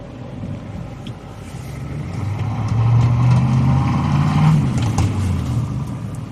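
A 1994 Ford F-250 diesel pickup engine revs up at about half throttle, a loud low rumble that swells midway and holds steady under heavy wind buffeting, with no talk.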